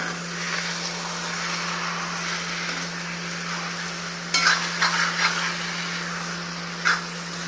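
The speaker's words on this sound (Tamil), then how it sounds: "மசாலாவோட நல்லா மிக்ஸ் பண்ணிக்கிடுங்க." Eggplant being stirred with masala in a pan, a steady scraping and frying hiss with a few sharper utensil clinks near the end, under a constant low electrical hum.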